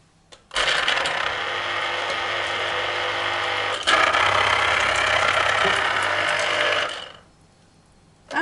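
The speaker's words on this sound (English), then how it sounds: "I need the juice extracted from 3 oranges, so I have a juice extractor here" A juice extractor runs on oranges, giving a steady loud motor whir for about six seconds, with a slight shift in tone midway, before it stops abruptly into quiet.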